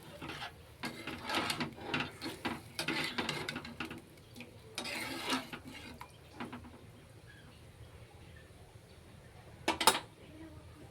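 A spoon stirs fish curry with taro in a pan, scraping and knocking against the metal in irregular clattering bursts that ease off, then one sharp clink near the end, close and moderately loud.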